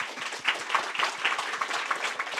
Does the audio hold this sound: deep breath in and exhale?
no